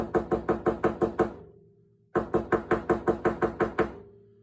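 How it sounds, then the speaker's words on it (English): Two quick bursts of sharp, even knocking, about seven taps each, tapping around the edges of a small-engine gasket being made, separated by a brief pause, close and clear with a short ringing tail. "I'm going to go ahead and tap around the edges again"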